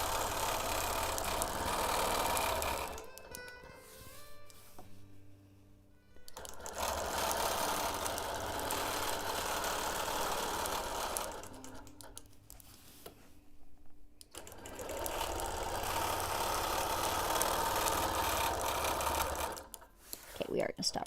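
A sewing machine with a rattling bobbin stitches a baby quilt in bursts of busy mechanical whirring and clatter, stopping in short pauses between runs, while a person talks over it.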